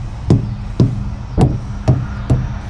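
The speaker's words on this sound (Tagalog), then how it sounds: "Kaya pinupukpok namin. Kailangan kung pupukpukin mo yung gulong" A hammer strikes a truck tire five times at a steady, even pace, each blow a close, dull thump with a short ringing tail.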